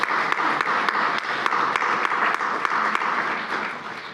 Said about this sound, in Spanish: Un aplauso, por favor, para nuestros ponentes.